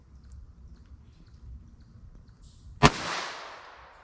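A single sharp crack from a .22 Long Rifle pistol round fired close by, followed by a short fading echo, after a stretch of quiet low background rumble.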